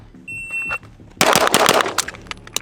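Rapid pistol shots fired at steel targets on an outdoor range, a loud burst of quick successive cracks with metallic impacts, following a brief electronic timer beep.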